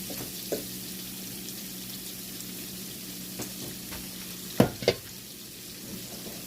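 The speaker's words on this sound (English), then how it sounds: "I'm going to let them get that sear on both sides" Shrimp sear in a pan over medium heat, giving a steady low sizzle with a couple of sharper pops near the end and no voices.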